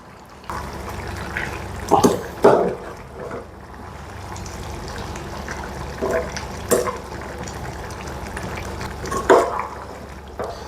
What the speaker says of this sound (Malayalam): തിളച്ചു മറയുണ്ട് കുറച്ച് നേരത്തേക്ക് നമുക്കതൊന്ന് തുറന്നു വയ്ക്കാം